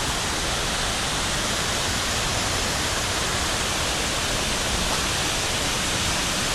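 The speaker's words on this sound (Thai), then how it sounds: "น้ำตกถือว่าไหล ไหลเชี่ยวมาก แล้วก็ สูงมากๆ" A very tall, fast-flowing waterfall gives off a constant, dense roar of rushing water that stays steady and unbroken throughout.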